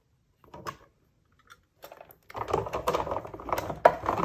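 A manual die-cutting machine cranking metal plates and green cardstock through for holiday card making, a few faint clicks at first, then a rough, continuous grinding rattle close by, with no talk.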